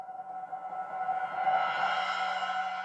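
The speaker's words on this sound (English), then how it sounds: "when there's a new section, I like to combine it, to glue it with a cymbal sound" A synthesized cymbal swell used to join sections of relaxing instrumental music, a soft shimmering tone that slowly rises and sustains over a low steady hum, smooth and unbroken.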